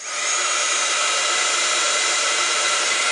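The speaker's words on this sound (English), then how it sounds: "But I got my heat tool, and I'm going to heat it up." A heat tool for card making runs steadily and loudly, a constant broadband blowing whoosh like a hair dryer that starts within the first moment and holds at full strength throughout.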